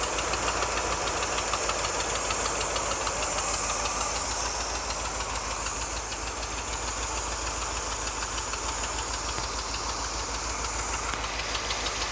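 A 1974 Ford F-350 Ranger dually truck engine runs steadily and loudly up close, with a continuous knocking, clattering rumble throughout and no breaks.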